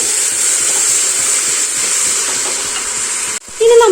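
Chopped tomatoes sizzle loudly in a cooker with onion, green chilli, ginger and garlic, a steady bright hiss with soft stirring scrapes that briefly cuts out near the end.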